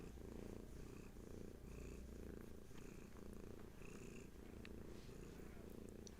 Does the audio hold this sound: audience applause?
no